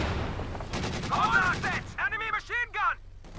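Heavy machine gun bursts from a Soviet DShK in Company of Heroes 2 battle, rattling fire mixed with other combat noise and short metallic whistling sounds, with a voice talking over it.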